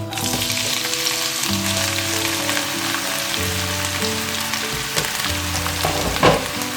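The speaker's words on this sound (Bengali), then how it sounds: "তেলের মধ্যে আমি এর মধ্যে এখন দিয়ে দিচ্ছি প্রায় তিন কাপ পরিমাণে পেঁয়াজ কুচি" About three cups of chopped onion frying in hot regular oil for salmon head bhuna, giving a loud, dense, steady sizzle up close with a few stirring knocks, over faint tonal music.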